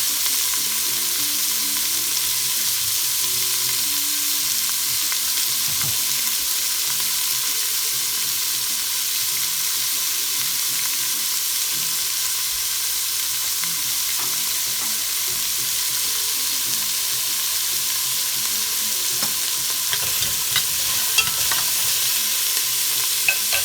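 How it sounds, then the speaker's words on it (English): Carrots and onions sauté on high heat in a pot for Mexican-style meatball soup, with a steady loud hiss of frying and occasional stirring scrapes, no voices, running continuously. "Let's keep our eye on those carrots and onions. Sauteing."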